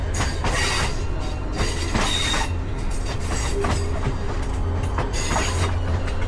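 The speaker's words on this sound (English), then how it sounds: "The train had been changing rail tracks" A Mombasa commuter train rolls across track switches, its wheels giving a steady rumble with rhythmic clacks and occasional metallic squeals, loud and close from on board.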